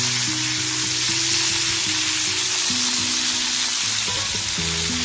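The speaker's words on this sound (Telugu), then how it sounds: "ఇది ఒక 5 మినిట్స్ టైం పడుతుంది ఫ్రై అవ్వడానికి." Food fries in oil over a medium flame for South Indian snacks, with tomatoes for chutney among them. A loud, dense sizzle hisses without pause, and a faint low tonal hum sits beneath it.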